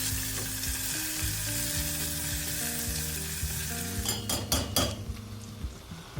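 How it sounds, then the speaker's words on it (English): Onions fry with whole raw spices in a pan for a rabbit curry, a loud dense sizzle running throughout, then a few quick metallic clinks and scrapes of a utensil against the pan near the end. "I let the onions fry with the raw spices until the color changes to a slight brownish"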